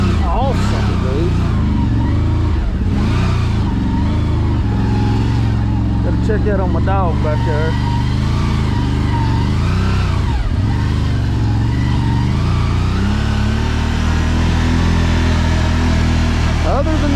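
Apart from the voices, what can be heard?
CFORCE Overland ATV engine driving and accelerating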